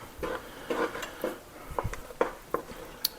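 Ingredients are mixed in a bowl while cooking potato leek soup, with intermittent clinks and scrapes of a utensil against the bowl coming in short, irregular bursts at close range.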